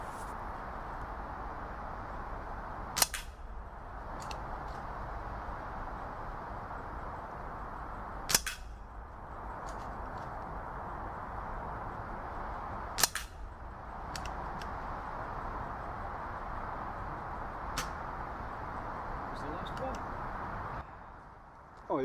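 Air rifle shooting pellets at a target: four sharp, isolated cracks spaced several seconds apart over a faint steady background hiss, fairly quiet overall.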